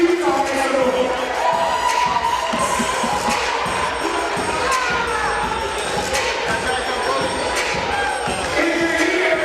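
Crowd cheering and shouting at a Grade 7 youth all-star basketball game, Wisconsin versus Utah, in a gym; a steady, dense roar of many voices fills the space throughout without a break.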